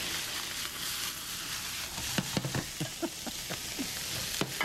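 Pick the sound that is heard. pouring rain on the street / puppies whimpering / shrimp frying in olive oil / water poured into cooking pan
shrimp frying in olive oil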